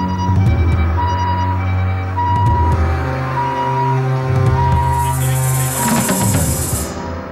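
An ambulance siren wails in Kathmandu, Nepal, after the earthquake as a rescued survivor is taken to hospital. Loud, steady tones rise and fall continuously over a busy street backdrop, with a hiss near the end.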